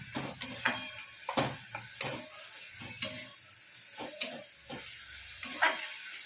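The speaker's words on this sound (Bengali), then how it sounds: "এটা এবার ভালো করে কষে নেব।" Fish pieces are sautéed with spices in a pan over gentle sizzling, with a spoon or spatula scraping and knocking against the metal in irregular sharp taps, close up and without speech.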